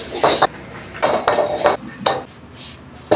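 Udon fried rice tossed in a pan at an Asian-style street food stall in Pulilan, Bulacan: repeated loud metallic scraping and clanging of a utensil against the pan in quick bursts over a faint sizzle.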